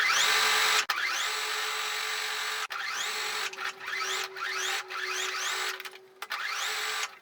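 An embroidery-ready sewing machine stitches two layers of fabric for a baby bib, whirring loudly in long runs that repeatedly ramp up, stop briefly and restart, with no voices.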